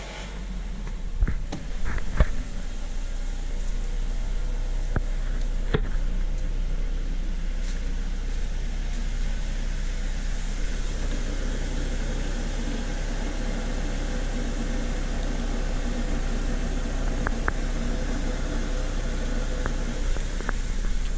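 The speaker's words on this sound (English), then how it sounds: "hopefully you'll be able to hear this fuel pump noise. It is quite the noise." 2007 Mazda 3 with its engine running and a noisy fuel pump, a steady low hum and drone continuing throughout with a few faint clicks, recorded nearby without talking.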